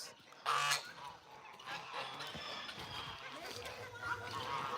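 A goose at an animal sanctuary gives a loud honk early on, followed by quieter fowl calls and chatter, with a person speaking nearby.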